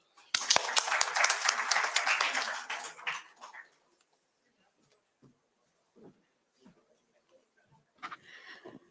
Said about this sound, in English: Please clap her.